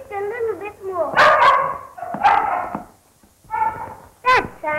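A small dog yips and barks in short bursts from a 1933 film, mixed with brief whimpers, close and fairly loud, while a voice talks between the barks.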